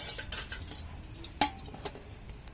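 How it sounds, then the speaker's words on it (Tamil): Tomato rice cooked over a stove on a rooftop is served onto a plate, with soft scrapes and light clinks of a metal spoon and pot, one sharper clink standing out, all quiet with no talking. "இப்போ தட்டில் போட்டு சாப்பிட வேண்டியதுதான்."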